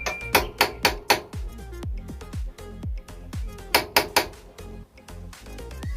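A hammer taps a punch into a metal bar in quick rhythmic bursts of sharp, ringing taps, close by, with short pauses between groups of blows.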